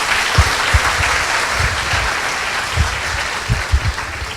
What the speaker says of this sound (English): let's give a warm round of applause for the Professor Kydland for the seminar today